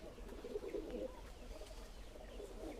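Flying pigeons kept for sale coo softly a short distance away, giving a few low calls over a quiet, faint background.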